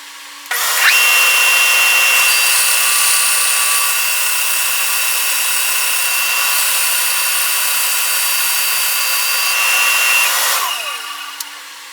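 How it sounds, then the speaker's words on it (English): A bandsaw cuts through a glued wooden striped blank with a steady, high, whining drone that starts abruptly, holds evenly for about ten seconds close by, then winds down. "I decided to use the bandsaw on this because the kerf is much smaller than on the table saw"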